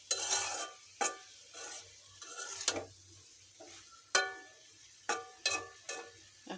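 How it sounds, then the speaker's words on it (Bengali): Broccoli frying in a pan and stirred with a utensil, giving a faint sizzle beneath repeated sharp scrapes and clinks of metal against the pan, spaced unevenly. "এই যে ব্রকলিটা ভাজা"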